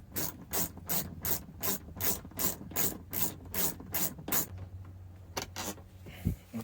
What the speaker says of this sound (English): for this one here, you're gonna need a T27 torque. Go ahead and unscrew this